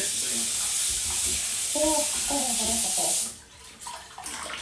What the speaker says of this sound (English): Give it a quick rinse off